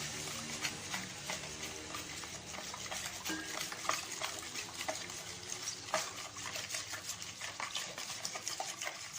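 Pizza dough ingredients with baking yeast being stirred and mixed by hand in a bowl, a steady run of soft scraping and wet stirring noises with small clinks, continuous and fairly close, no talking.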